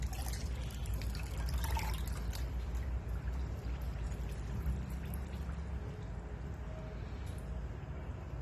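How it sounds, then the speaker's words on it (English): Tap water runs quietly and steadily into a cupped iceberg lettuce leaf, a faint continuous trickle and pour heard close up with no talking over it. "and let it fill with water."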